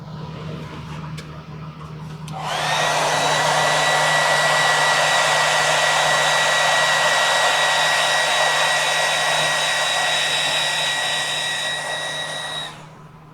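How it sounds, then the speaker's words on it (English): Hair dryer used to dry paint on a Boba Fett prop in a prop workshop. It switches on after a short quiet stretch, blows with a loud steady whining roar for about ten seconds, then cuts off. "Take it over to my hair dryer."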